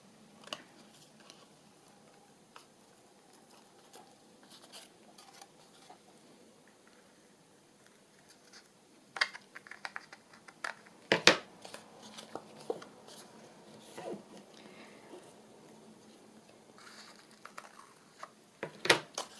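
Scissors trim the edges of a decorated paper tag at close range, a scattering of quiet, sharp snips and paper rustles that grow busier and louder in the second half.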